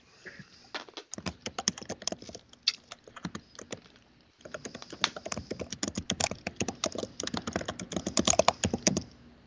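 Typing on a computer keyboard: quick close clicking keystrokes in bursts, a short pause near the middle, then a denser run of taps, fairly quiet with no talk.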